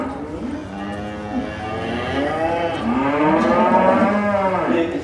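Angus steer and other heavy purebred cattle lowing repeatedly at a livestock show, several long drawn-out moos overlapping one after another, close and loud throughout.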